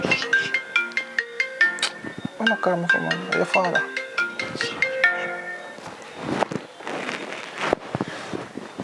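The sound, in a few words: phone ringtone ringing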